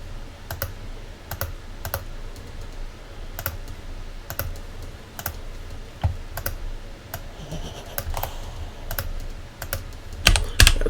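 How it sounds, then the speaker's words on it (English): Brisk typing on a computer keyboard while filling in an online report form, sharp clicking keystrokes in irregular bursts, close and clear with no talking. "I'll type it in"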